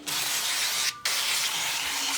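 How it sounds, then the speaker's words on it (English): Avocado oil cooking spray hisses into molds for cottage-cheese keto pasta in two close, steady bursts split by a short pause. "I'm gonna spray the molds with avocado oil just because I want them to be able to pop out easily"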